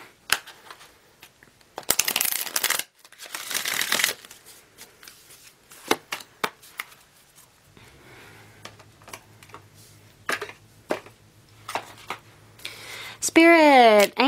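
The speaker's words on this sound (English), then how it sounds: "One last shuffle." Tarot cards being shuffled in quick riffling bursts, with soft pauses between, near and moderately loud; a brief chime-like tone rises at the end.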